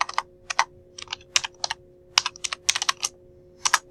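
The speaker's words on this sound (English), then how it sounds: "we're going to just type backfill here" Bursts of quick keystrokes on a computer keyboard as a word is typed into a spreadsheet, clear and close, with short pauses between clusters and no talking.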